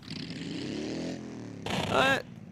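An unmuffled car with no exhaust revs in the BeamNG Drive racing game, a loud droning engine note that climbs and falls, then a brief harsher crackling burst like rally anti-lag pops.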